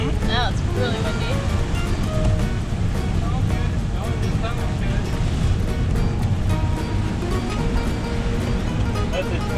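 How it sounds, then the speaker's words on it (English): Strong wind roars steadily over a sailboat in rough weather in the Strait of Juan de Fuca, mixed with surging waves and spray for about ten seconds while people talk over it. "Now it's really windy."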